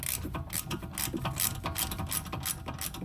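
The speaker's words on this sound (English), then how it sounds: "So we put 13 mil socket and start turning." A ratchet with a 13 mm socket turns a rear brake caliper nut on a VW with an electronic parking brake. It gives close, steady, rapid clicking that continues throughout with no talk.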